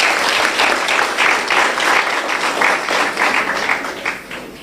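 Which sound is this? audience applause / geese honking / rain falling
audience applause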